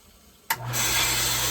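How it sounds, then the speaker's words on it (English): A toilet flushes with a sudden burst of rushing water, then the tank refills with a steady, loud hiss and gurgle close by. "I'm going to flush the toilet and see if it runs in just one flush."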